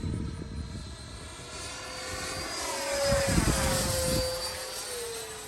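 A Freewing F-86 Sabre 80mm electric ducted fan RC jet flying in turbulent air, its whining fan sweeping in pitch as it passes, growing louder midway then easing off, heard from the ground with steady wind rumble.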